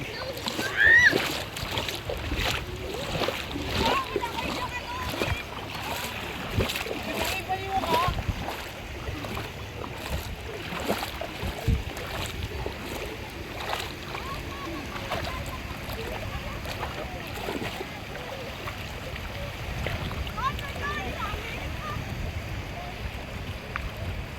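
A boat ride over clear water near sandbars, with a continuous wash of water and splashing against the hull mixed with wind, voices faintly present throughout.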